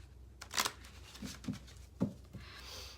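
A few soft tarot card shuffles and flicks, quiet and close, spaced out over a faint steady background hiss.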